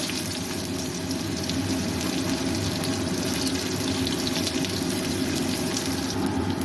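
Chopped onion fries in hot oil alongside bay leaf and five-spice seeds, giving a loud, steady, continuous hiss and crackle throughout, with no talk.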